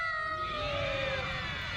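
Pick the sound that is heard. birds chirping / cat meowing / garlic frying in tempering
cat meowing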